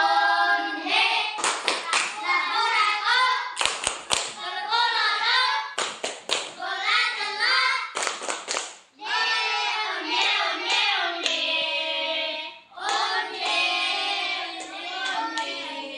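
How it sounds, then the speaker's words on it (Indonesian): A class of children performs the tepuk onde-onde clapping game, chanting together in a sing-song rhythm while sharp group hand claps punctuate the verses in quick bursts, close and lively, with brief pauses between phrases. "marilah kita melakukan ice breaking dengan menggunakan tepuk onde-onde"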